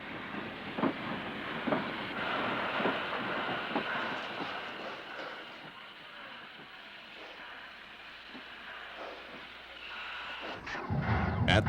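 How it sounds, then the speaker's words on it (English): A Southern Pacific train of express reefers rumbles past steadily while a caboose is switched on the fly, with continuous rolling rail noise, faint clicks and hiss, and a louder burst of clanking near the end. "As number 1408 works a train of express reefers, a caboose is switched on the fly."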